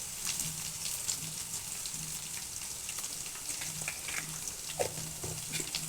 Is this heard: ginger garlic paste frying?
yes